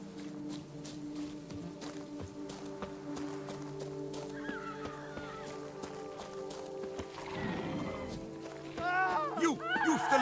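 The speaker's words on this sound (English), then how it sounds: "Even a horse drops if you ride it at a constant gallop." Horse in The Witcher 3 game clip-clopping at steady pace under a game soundtrack, with a neigh and whinny rising near the end; a character voice speaks over it.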